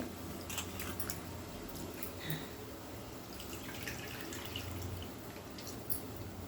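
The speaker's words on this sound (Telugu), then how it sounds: "చింతపండు పిసికి పోస్తున్నాను" Soaked tamarind is squeezed by hand and the tamarind water poured into a pot while making village-style rice pulusu upma; a soft, steady wet squishing and trickling runs low throughout, with no talking.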